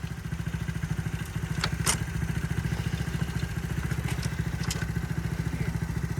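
A motorcycle engine runs close by in a steady, rapid putter with faint clattering and clicks over the top. It holds an even pace throughout, with no clear revving.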